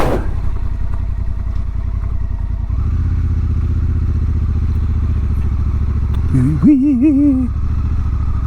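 Motorcycle riding in the rain, a steady low engine drone that rises slightly partway through, ending in a wavering pitch swell, near and loud with no talk.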